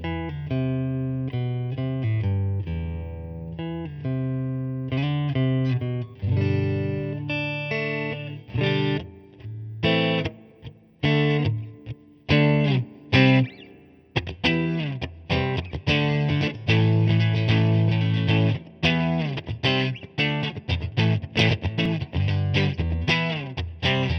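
Electric guitar played through a 1981 Fender Harvard Reverb amp with a Jensen speaker, ringing single notes and chords that move from clean sustained tones into choppier, more driven strummed passages, loud and alone with no talk.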